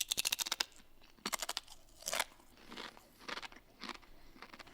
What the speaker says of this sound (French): la chips est beaucoup plus croustillante